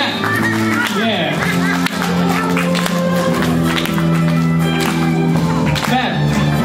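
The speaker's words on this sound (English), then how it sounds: "Come on, clap, clap," Audience clapping along to live music at a Feng Fei Fei fan event, steady loud claps blended with a sustained sung melody and crowd voices throughout.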